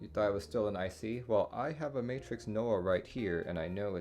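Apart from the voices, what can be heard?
None of the usual background noises is heard.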